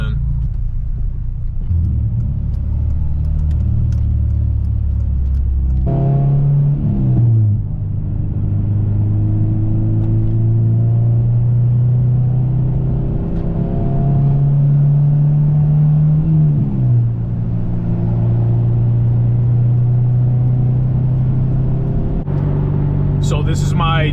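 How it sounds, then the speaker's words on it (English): A tuned 2007 Honda Civic Si with a JDM K24A swap, bolt-ons and an E-tune drives along, its engine droning steadily with several rev rises and gear changes, loud and close throughout. "So this is my 225 horsepower Honda Civic Si, 2007. It's powered by a JDM K24A, bolt-ons, and an E-tune."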